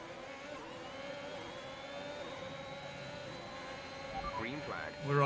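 Racing engines from F1 2021 on a race restart, a steady whining drone of cars with rising pitch sweeps, then a louder surge of acceleration near the end.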